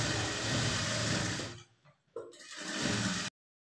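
Sewing machine stitching a half-inch seam to join the shoulder of a blouse, running steadily and fairly loud, pausing briefly near the middle, then resuming before stopping abruptly.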